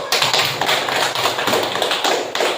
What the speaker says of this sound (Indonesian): Yuk beri aplaus.